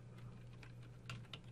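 Fingers type on a computer keyboard while entering JavaScript code, a few soft, close key clicks over a low steady hum.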